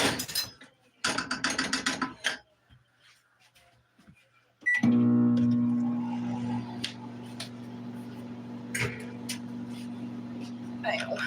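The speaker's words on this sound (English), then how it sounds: "I cheated and put my peas in the microwave." A microwave oven heating a dish of peas starts with clicks and mechanical rattles from the door and controls, then a steady loud hum runs continuously with faint background noise.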